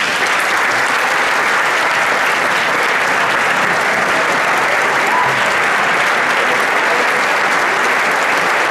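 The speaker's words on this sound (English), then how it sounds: "she probably deserves a standing ovation as well" Sustained applause from a standing ovation at a 2013 high school spring sports awards ceremony, steady dense clapping from a large crowd filling the room throughout without a break.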